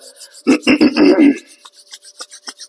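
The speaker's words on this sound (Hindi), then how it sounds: "रब योर हैंड, हाथों का घर्षण" Palms rubbing briskly together during a live yoga session, a close, raspy back-and-forth friction in quick strokes that fade to softer, lighter rubs, with no talking.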